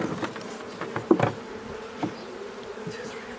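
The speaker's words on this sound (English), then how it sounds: "oh look, there's bees on this" Bees from a caught swarm buzz faintly around hive frames, a low, uneven drone with a few closer passes swelling briefly, and no one speaking.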